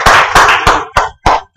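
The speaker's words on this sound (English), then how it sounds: "Amrita, please loud clap" A class of medical students at a NEET PG coaching session claps loudly in unison, giving about six sharp, separate claps in a steady beat with short silent gaps between them.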